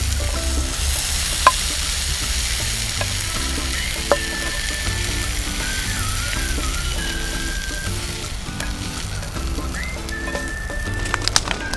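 Leeks and dried shrimp fry in a pan with a constant close sizzle and occasional stirring scrapes. Faint whistling tones drift in the background, and no one speaks.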